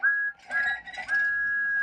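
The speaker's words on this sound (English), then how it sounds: "Thomas was so excited, he blew his whistle louder than ever." Thomas the Tank Engine's steam whistle sounds in three short, bright blasts, the last one held longer, close and clear with no talk over it.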